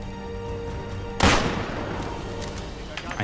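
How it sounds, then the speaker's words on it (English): Gunfire in Fallout 4 strikes as a single sharp, loud blast partway in, with a decaying rumble and faint scattered shots afterward over a steady background hum. "they're shooting at me"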